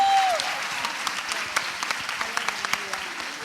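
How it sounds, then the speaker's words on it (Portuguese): A church conference audience claps. The applause starts with a dense burst, then thins to scattered claps that trail off within a few seconds, and a faint voice is heard briefly. "Você pode aplaudir o Senhor Jesus?"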